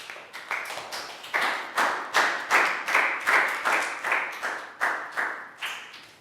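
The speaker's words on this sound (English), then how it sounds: "Big round of applause for Pat." Classroom applause for a student in a Year 3 maths lesson: a small group clapping in rhythmic, evenly spaced bursts, close and fairly loud, with no voices.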